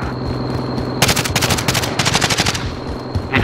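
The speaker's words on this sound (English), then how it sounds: "I think those shots were coming from our left." Automatic gunfire in a Call of Duty Modern Warfare match, several rapid bursts of loud, close shots chattering in quick succession with short gaps between volleys, over a steady game background hum.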